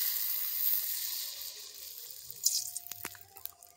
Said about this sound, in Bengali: এবারে এক এক করে পাঁপড়গুলো ভেজে নেব